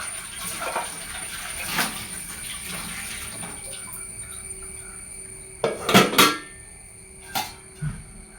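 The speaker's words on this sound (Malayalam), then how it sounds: "പാത്രം കഴുകി വെക്കട്ടെ." Pots and dishes being washed clatter in a few sharp metallic bursts and clinks, close by, over a quiet background hum with no talking.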